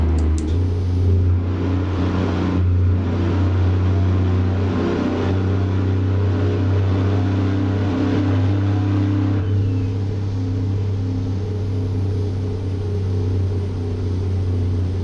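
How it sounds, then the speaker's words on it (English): A Cummins ISM 500 truck engine in American Truck Simulator, driving an Alaska route, holds a steady low diesel drone with a deep harmonic rumble throughout, loud and unbroken, with no voices. "I like the way the engine sounds in this truck. This is the Cummins ISM 500 that I got right now in the truck."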